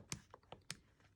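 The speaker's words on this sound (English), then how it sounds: "I'm going to type in all of my X values first" Numbers being typed on a computer keyboard: a handful of crisp, separate key taps in an uneven rhythm, close and fairly quiet, with no talking.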